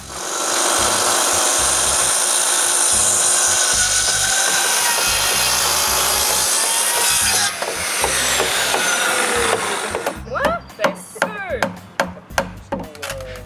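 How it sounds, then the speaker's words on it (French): A saw makes a continuous series of close, loud cuts into timber for a roof-truss tenon, a steady rasping drone that stops near the end, followed by sharp knocks and handling thumps of wood. "je fais une série de coupes pour faire le tenon"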